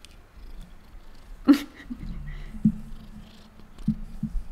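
House cat purring close by during a watercolor painting session, a low, steady rumbling purr that begins midway and continues in rhythmic pulses, preceded by a brief sharp snort-like sound.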